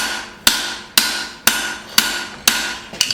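A hammer strikes a cleaver blade while forging a bevel on its edge, six sharp ringing blows at a steady half-second rhythm, each decaying quickly, close and loud with no talk.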